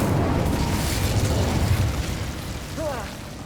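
Fiery spell blasts rumble and burst in a Hogwarts Legacy fight, a dense continuous roar of explosions with a brief warbling magical tone near the end, loud and close.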